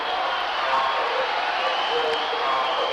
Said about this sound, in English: Roberts goes off to rapturous applause.